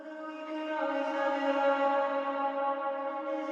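Reverb and delay effect on a sustained vocal note in a dark pop ballad, a soft, smeared tone that hangs and washes out evenly for a few seconds.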